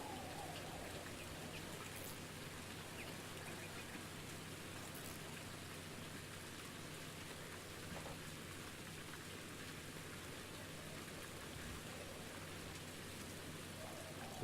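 Steady rain falls in the Ultimate Fishing Simulator video game, a soft, even patter of raindrops on a surface that continues without a break, faint and unaccompanied by talk.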